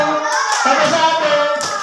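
Hands clap in a children's counting clapping game, a steady run of close, fairly loud claps with a voice chanting along.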